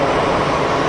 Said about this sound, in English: PC-12 is powered by the ubiquitous, you might say, PT6 turboprop